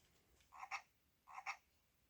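A virtual pet frog in the Giga Pets Floppy Frog game gives two short electronic croaks about three-quarters of a second apart, each a quick double-pulsed chirp, faint and alone with no other sound.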